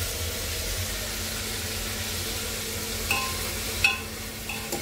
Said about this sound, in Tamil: எல்லா காய்கறியும் நல்லா வதக்கி விட்டுருங்க